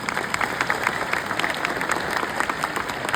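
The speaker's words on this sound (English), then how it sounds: "why don't we give a final round of applause to Tan Sri" An audience at a CEO masterclass interview gives a final round of applause, steady, dense clapping close by with a faint murmur of voices underneath.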